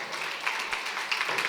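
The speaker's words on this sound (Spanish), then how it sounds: "Un aplauso muy fuerte," Brief applause from an audience at an event, a moderate, even clatter of clapping with a few slightly louder claps near the middle and end.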